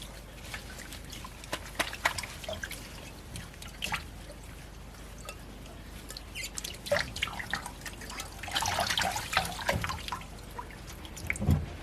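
Vinegar rinse poured and worked through wet, soapy hair, giving quiet drips and trickles of liquid, light splashes and a swell of wetter pouring late on, close and soft.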